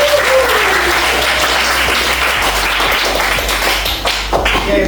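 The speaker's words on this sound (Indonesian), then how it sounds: "Oke, tepuk tangan untuk dirinya." An audience claps steadily and densely throughout, a sustained round of applause in an indoor session, loud and continuous with no speech over it.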